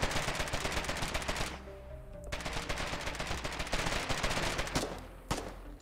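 Rapid submachine gun bursts in a close-quarters shooter game, loud continuous rattling fire with brief pauses between volleys.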